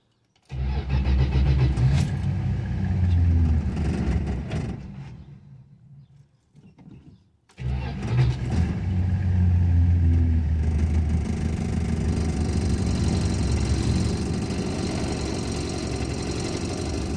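A 1974 Dodge Dart that has sat for five years cranks and starts, then runs with a loud, rough, knocking idle. It nearly dies out partway through, catches again and keeps idling unevenly close by.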